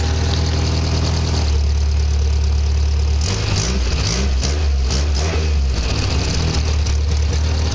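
A Triumph TR3A under restoration runs loud and close, its engine note holding steady, then surging and shifting as the car is put through successive gears.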